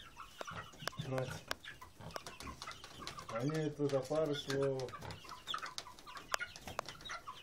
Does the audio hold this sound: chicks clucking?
yes